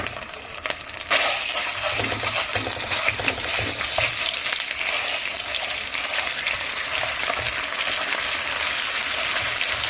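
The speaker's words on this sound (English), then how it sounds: "So I'm gonna add the tomato paste." Tomato paste going into a hot frying pan with potatoes, a loud steady sizzle and crackle close by, with a brief clatter at the start and no talk.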